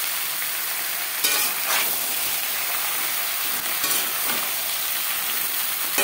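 Malabar spinach stems frying in a pan with ginger paste and green chilli paste, a loud constant sizzle close up, broken by a few scraping stirs, with no one speaking.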